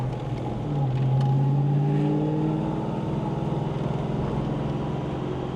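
A 1979 Ford Mustang with a 5.0 302 V8, Crower cam, Holley EFI and dual exhaust with Flowmaster tips idles with a low, steady burble, rising briefly in a short rev before settling back to a lumpy idle.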